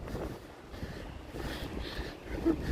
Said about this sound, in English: It's a very windy day out here.